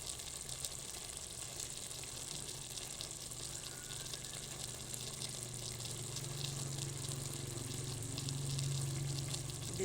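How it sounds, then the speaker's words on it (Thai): A pot of clear vegetable soup with pork bones boils steadily, giving a continuous close bubbling hiss that swells slightly toward the end, with no one speaking. "เดือดเป็นเดือดเลย"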